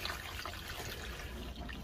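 Water is poured into a gardening tray, a steady close trickle and splash running for a couple of seconds with no voices over it.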